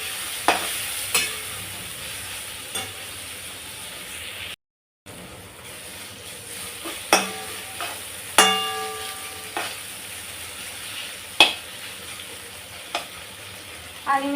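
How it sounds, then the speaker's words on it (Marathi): Tomato and onion sauté in a pan over a high gas flame, a steady sizzle under repeated clinks and scrapes of a spatula against the metal, with one brief dropout partway through. "आता टमॅटो कांदा परतून घेते व्यवस्थित मोठा गॅस ठेवला"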